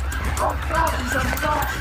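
A police dog barks repeatedly during a manhunt for a driver who fled, the sharp barks loud and close over steady engine rumble and background voices.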